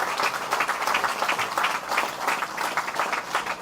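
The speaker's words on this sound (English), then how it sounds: "Let us give our land, the land of the free, a big round of applause." Audience applause at a hospital sod-turning ceremony, a dense steady clapping from a crowd sustained for several seconds at moderate distance.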